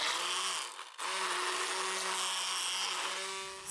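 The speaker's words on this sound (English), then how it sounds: "Thank goodness for an immersion blender." An immersion blender whirs steadily through berry compote with fresh spinach, a continuous close motor drone that dips briefly near the start, then holds a steady pitch to the end.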